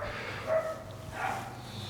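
A couple of dog barks in the distance, faint and somewhat muffled, against a steady low background hum.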